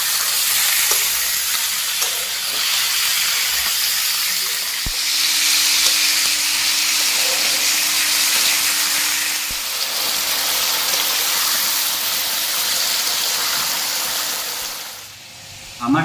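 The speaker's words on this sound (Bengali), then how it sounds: "এখন আমি গিলাটাকে অল্প ভেজে নেব" Chicken gizzards frying in a wok give a steady, close, fairly loud sizzle that runs unbroken throughout, with no talking.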